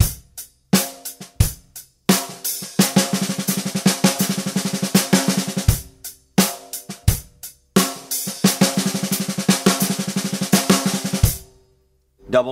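Drum kit groove with cymbal and kick hits broken up by dense double stroke roll fill-ins on the snare, loud and close, building into long rapid rolls twice before ending on a ringing crash.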